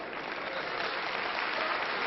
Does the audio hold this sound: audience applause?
yes